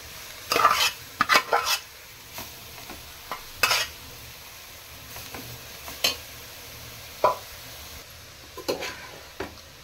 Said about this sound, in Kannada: ಇದನ್ನ ಇಲ್ಲಿಗೆ ಹಾಕೊಂಡು ಸಾಫ್ಟ್ ಆಗಬೇಕು, ಅದನ್ನು ಮಿಕ್ಸ್ ಮಾಡ್ಕೋಬೇಕು.